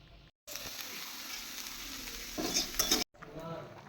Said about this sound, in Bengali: এখন আলু ভাজা করছি